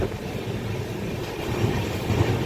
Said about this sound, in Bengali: কুচবিহার ছাড়ার পরেই একটা বড় কার্ভ নিয়ে ট্রেনটা বাঁকবে আলিপুরদুয়ারের দিকে